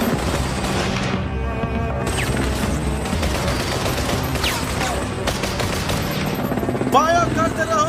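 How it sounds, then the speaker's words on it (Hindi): Gunfire rattles through a battle scene in a Hindi-dubbed film, a loud, continuous fusillade of shots and booms with a few sharper impacts toward the end. "फायर करते रहो, उसे उड़ाते रहो।"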